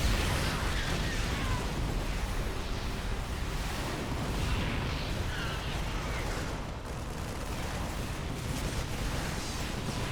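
Explosions as turrets are destroyed in a StarCraft 2 match, a dense, continuous rumble of bursts and booms held at a steady loud level throughout, with no clear gaps between blasts.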